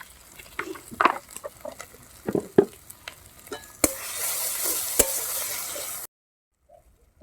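A spiced masala with turmeric frying in a pan, scraped and stirred with a spoon in irregular close strokes, then a louder steady sizzle for a couple of seconds before the sound cuts off.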